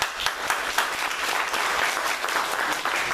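A roomful of people at a live speaking event clap their hands hard together, producing a dense, loud burst of overlapping sharp claps with a few stronger accents, close by.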